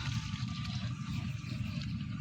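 Open water rushes strongly from an irrigation hose watering calamansi trees, a faint, steady outdoor splashing flow with no pauses.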